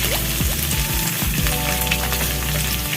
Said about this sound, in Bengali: তাই জন্য আমি ঘি দিয়ে ভেজে নেব ড্রাই ফ্রুটসগুলো